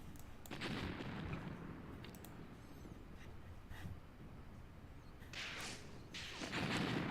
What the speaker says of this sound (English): Our Stug is firing a little bit.